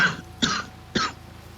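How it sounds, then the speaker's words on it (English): A person clears their throat and coughs, three short rough bursts spaced about half a second apart, close and fairly loud, ending in quiet. "Sorry for the cough."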